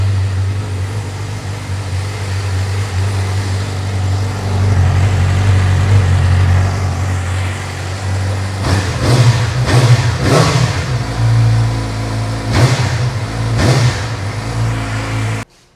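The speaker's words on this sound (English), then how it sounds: "This is what the stock exhaust sounds like at the moment." Stock exhaust on a Yamaha R6 sport motorcycle in neutral: a steady idle drone broken by several sharp revving bursts around the middle and late part, close and loud, with no talking.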